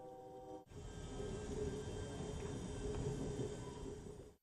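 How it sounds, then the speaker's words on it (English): Passenger train pulling away from the Houston station, a steady, fairly loud rumble and rolling hum of the cars that builds after a short quiet start and then fades near the end. "Now we're moving away from the train station."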